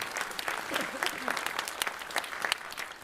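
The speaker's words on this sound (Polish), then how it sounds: "Wielkie brawa dla Joanny Wdziękońskiej." Audience at a school gala in Zambrów applauding, a crowd of clapping hands filling the room steadily for a few seconds.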